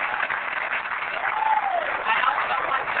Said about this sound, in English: So let's give Hans a round of applause.